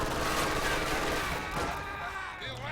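Rifle and machine gun fire rattles across a battlefield in a 2v2 strategy game, Grenadiers taking Riflemen's fire, a steady, moderately distant crackle of overlapping shots.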